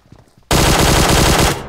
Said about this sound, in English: That's hip fire range. Yeah, that's hip fire range right there.